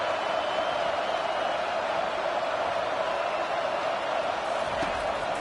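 Stadium crowd in College Football 25, a dense, constant roar of cheering that fills the space evenly and loudly for the whole stretch, with faint commentary under it.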